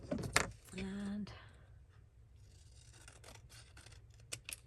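Scissors cutting a fabric belly band embellishment, a crisp close snip and slicing rustle near the start, followed by quieter handling and rustling.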